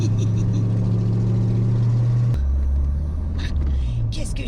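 A Corvette C5's engine roars loudly while driving, a strong steady drone that drops abruptly to a lower rumble midway, with voices speaking over the noise near the end.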